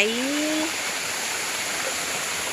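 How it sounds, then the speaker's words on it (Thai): A mountain stream waterfall in the Mae Wong National Park forest gives a steady, even rush of water, with a brief faint tone near the start. "ต้นน้ำเป็นน้ำสายน้ำตกสวยมากเลยค่ะ นะคะน้ำใส"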